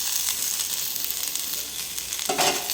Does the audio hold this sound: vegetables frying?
yes